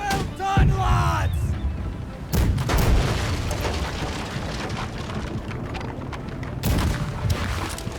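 Ship cannons firing in the naval video game Blackwake, several heavy booms in quick succession with rumbling decay, a louder blast near the end, amid game noise.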